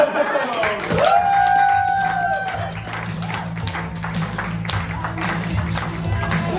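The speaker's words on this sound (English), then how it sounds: "give another round of applause for Ronde" An audience at a live comedy show applauds in a steady wash of clapping, moderately loud, following a brief whistling tone and mixed with a voice over the crowd.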